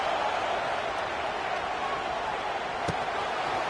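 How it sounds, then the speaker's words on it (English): A fired-up stadium crowd in a college football video game roars as a steady, dense wash of noise, loud and unbroken throughout with a couple of faint sharp knocks. "this crowd is fired up. Listen to this noise here."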